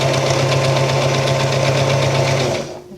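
A sewing machine hemming a skirt runs in a fast, steady, close buzzing chatter, then stops abruptly near the end.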